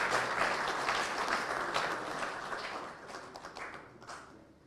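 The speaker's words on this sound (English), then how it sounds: "Let's give them a better round of applause." Round of applause for panelists at a memorial event for Kibaki in Kenya, fairly quiet clapping from a sizeable crowd that gradually thins and fades out.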